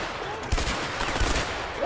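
Rapid video-game gunfire crackles in dense bursts, with a couple of heavier thumps standing out against a steady noisy backdrop of in-game action.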